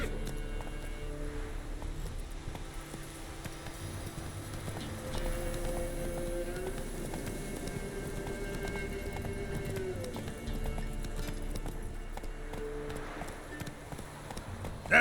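Roach the horse galloping in The Witcher 3, a soft continuous hoof rhythm under a steady low game ambience and music, with a brief voice now and then.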